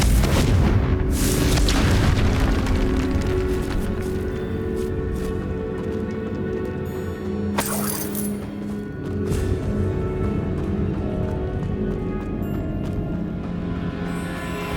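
A Confringo blasting spell in Hogwarts Legacy on the Switch sets off a loud boom, then a second blast rips through around the middle, with rumbling debris and game music carrying steadily throughout.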